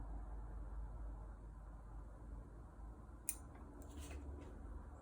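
Pruning shears snip a branch on a Douglas fir bonsai: one short, crisp cut near the middle, followed by faint rustling, all quiet against a low steady background hiss.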